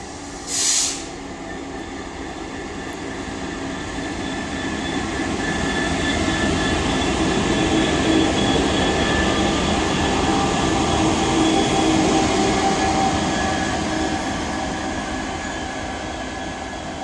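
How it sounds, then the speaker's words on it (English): Locomotives roll through Bristol Parkway station on the Great Western Main Line, a loud, sustained rumble of wheels and engines that swells and holds close by, with a brief higher squeal at the start. "We do have the return of the locomotives. He's just going to come into the depot now"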